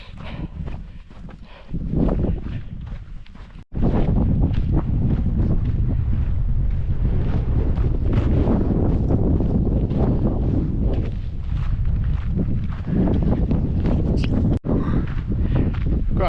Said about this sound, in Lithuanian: vėjas tik biškį didokas